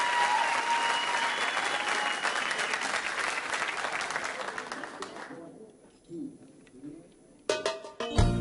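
A TV studio audience claps and cheers for contestant Camelia, a dense burst of applause that tapers off after about five seconds, leaving quiet before music and voices start up.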